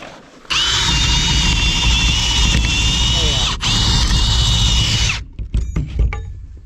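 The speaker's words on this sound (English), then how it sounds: "I'm going to drill with the Hart first." A Hart cordless drill whines loudly and steadily for about five seconds with a brief dip midway, then stops, followed by light clatter and handling sounds.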